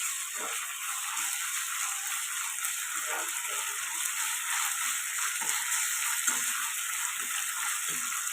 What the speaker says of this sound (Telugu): ఇక్కడ అర స్పూన్ దాకా అల్లం వెల్లుల్లి పేస్ట్ వేసుకోవాలి ఇది కూడా పచ్చివాసన పోయేదాకా ఫ్రై చేసుకోండి